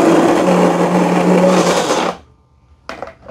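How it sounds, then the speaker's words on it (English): A coffee maker's built-in grinder grinds coffee beans with a loud steady whir for about two seconds, then cuts off abruptly, followed by a brief rattling clatter. "so I hear it grinding."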